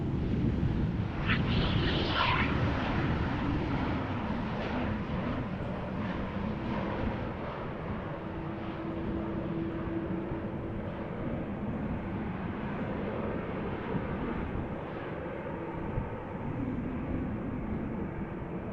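A jet airliner lands at Amsterdam Schiphol Airport after a storm, a long, loud, broad roar that fades slowly as it goes on, with a brief higher whine near the start and no voices.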